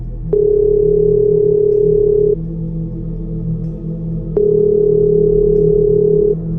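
A telephone in a horror story, sounding as a loud, steady electronic ring tone in two long bursts of about two seconds each, separated by a short pause.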